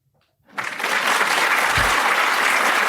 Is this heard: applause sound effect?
yes